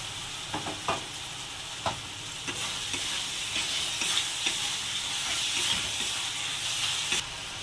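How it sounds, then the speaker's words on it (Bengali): Capsicum frying in a pan for an egg and potato curry, a steady sizzle and hiss with intermittent scraping stirs of a spoon, close and moderately loud. "এবার ক্যাপসিকামগুলো দিয়ে দেবো"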